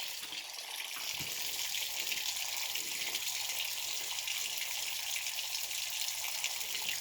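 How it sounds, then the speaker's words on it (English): Water pours steadily from pipes by a basement boiler, a continuous loud rushing hiss that stays even throughout with no talk. "we still got water pouring out of here."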